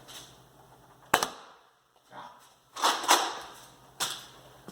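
Several sharp Nerf dart impacts smack a cardstock target with copper foil tape, three or four distinct snappy pops spaced about a second apart with softer rustling between, close and fairly loud.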